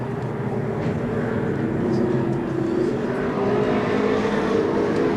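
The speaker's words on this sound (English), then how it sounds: "Number 99 car of Glenn Young screaming around turn 1." Race cars roaring around turn 1 at Seekonk Speedway during a 1994 weekly race, a loud continuous engine drone with a pitch sweeping up and down as cars scream past, steady and close throughout.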